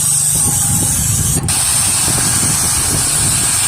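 A pressure washer sprays water steadily at close range outdoors in wind, a loud continuous hiss over a low engine rumble, with one brief break near the middle.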